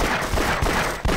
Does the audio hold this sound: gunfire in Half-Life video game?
yes